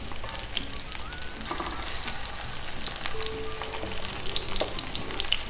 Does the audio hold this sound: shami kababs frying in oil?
yes